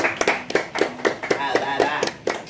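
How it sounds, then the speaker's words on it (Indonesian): A small group claps in a podcast studio, a sparse, uneven patter of close hand claps with a loose rhythm and no voices over it. "Tepuk tangan buat RT Dodo."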